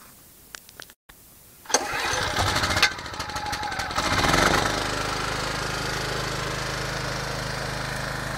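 XCEED EX200G portable generator inside a small insulated hut, pulled to start with a brief clatter, then catching and settling into a steady, loud engine drone.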